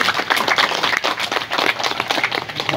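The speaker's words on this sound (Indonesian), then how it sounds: "Tepuk tangan dong untuk pengguna kalian." A group of students at a hands-on river conservation lesson by the Podang river claps their hands. A rapid, close, continuous patter of many claps holds at a steady loudness throughout.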